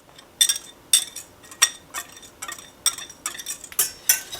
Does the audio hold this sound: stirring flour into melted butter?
yes